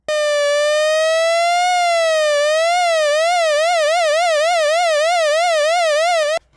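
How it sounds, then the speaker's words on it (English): Subtractive synthesizer tone with a fast LFO wobbling its pitch like an American police siren, a loud, bright, buzzy wail that starts slow then warbles rapidly before cutting off abruptly. "now it really sounds like a police car"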